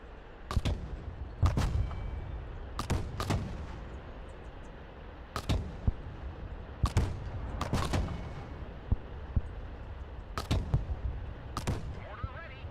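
Artillery fire mission in the video game Broken Arrow: about eight heavy booming impacts land at irregular intervals over a constant low battlefield rumble, loud and fairly close.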